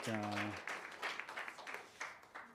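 Faint applause from an audience at a community reading event for Trevor, a soft steady patter of clapping following a brief humming tone at the start.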